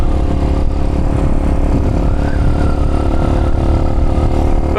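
Small Chinese motorcycle engine wound out hard, a loud, close, steady buzzing drone held at high revs for the whole stretch, with no speech.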